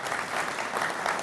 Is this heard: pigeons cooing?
no